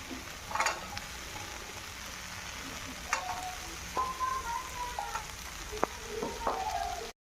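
Green peas go into a pan for sago khichdi, giving a soft, steady sizzle with scattered clinks and scrapes of a spoon against the pan, then sudden silence at the end.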